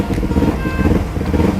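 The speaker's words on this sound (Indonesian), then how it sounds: "Jadi suaranya adem ini untuk knalpot Yoshimura sendiri." A two-cylinder motorcycle fitted with a Yoshimura aftermarket exhaust runs close by, its smooth, fairly mellow exhaust note pulsing evenly through a short stretch.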